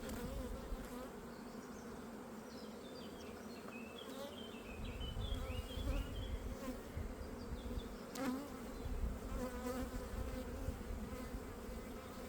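Honey bees swarm over a brood frame in a hive, a dense steady buzzing close by with scattered individual wingbeat whines rising over it, no talk.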